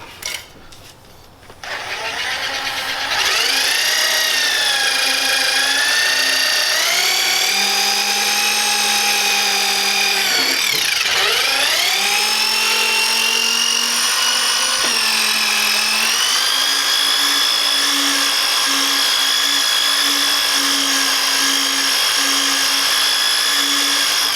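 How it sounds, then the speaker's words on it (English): Power buffer with a Powercone spinning on aluminum with Mothers Mag and Aluminum Polish, on a Mercedes part, a loud sustained high motor whine that dips briefly in pitch midway, then holds steady. "And then let me start buffing."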